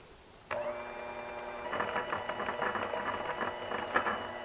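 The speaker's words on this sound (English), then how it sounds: "I'm just going to take my electric hand mixer. We're going to mix this all together until it's nice and smooth" An electric hand mixer beats apple pudding cake batter made from box cake mix. The motor starts with a click into a steady whine, then turns to a louder churning buzz as the beaters work the batter, close and with no talking.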